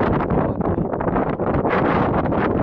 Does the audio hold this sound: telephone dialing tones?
no